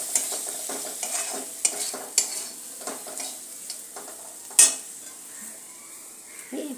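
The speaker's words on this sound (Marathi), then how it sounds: "हेही यामध्ये घालून घेऊया आणि चांगले परतून घेऊ" Turmeric, red chili, cumin and coriander powder being stir-fried in hot oil, a steady close sizzle broken by repeated scrapes and clinks of a spoon against the pan, with one sharper knock near the end.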